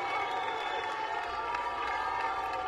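A Wimbledon tennis crowd at a 1993 match makes a continuous broad murmur and roar, with light cheering and scattered claps rising as a Mexican wave rolls around the stands, steady and fairly distant.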